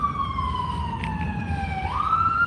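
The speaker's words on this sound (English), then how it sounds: "That is a loud siren." A loud wailing siren, likely from a park police emergency vehicle, sweeps steadily downward in pitch and then jumps back up, sounding close and sustained over low road rumble.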